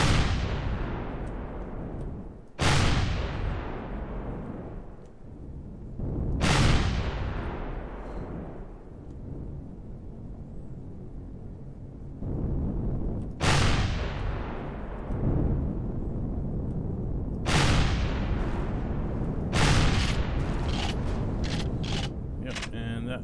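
Heavy cannon fire in the Empyrion video game, several loud booming blasts spaced a few seconds apart, each with a sharp onset and a long rumbling decay over a continuous low mechanical hum.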